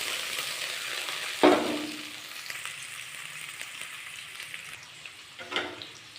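Onions and tempering seeds hit hot oil with a sharp burst of sizzling, then fry with a softer, steady crackle. Utensils scrape and stir the pan, and a second louder sizzle bursts near the end.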